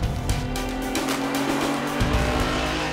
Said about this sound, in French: on a voulu remettre sur la piste ces voitures, donc les voitures des années 70, les Capri, les BM 30 CSL